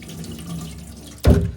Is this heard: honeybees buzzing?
no